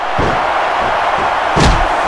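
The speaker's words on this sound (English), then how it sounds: "the crowd just exploded after that huge move" An arena crowd at a DWA Fall Brawl wrestling event roars in a sustained wash of cheering after a slam, with a couple of heavy ring thuds punching through the noise.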